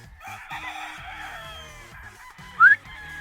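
A single rooster crows nearby, a drawn-out call with a sharp high peak near the end, over quiet background with faint low clucks.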